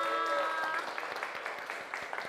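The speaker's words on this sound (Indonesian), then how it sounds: "Tepuk tangan untuk kita semua." A class at the end of a business and marketing lesson gives a short round of applause, loose and uneven clapping that thins to scattered claps, following a brief sustained tone at the start.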